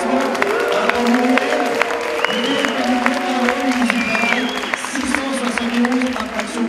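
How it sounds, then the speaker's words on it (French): Audience at a political gathering at the Bourse du Travail in April 2018 clapping and cheering in a sustained, moderately loud wash, with a voice speaking over the applause throughout. "Je crois que ça mérite un petit applaudissement."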